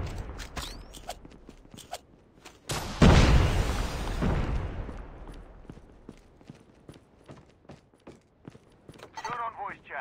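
A frag grenade bursts with a heavy boom in a Call of Duty Mobile multiplayer match, then rumbles as it fades, amid scattered gunshots, footsteps and clicks of game sounds, with a voice calling out in the game.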